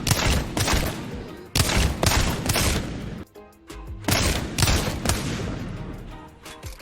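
Wingman revolver shots in a shooting video game ring out in loud, close, booming bursts with reverberant tails, several shots in quick succession around a short pause.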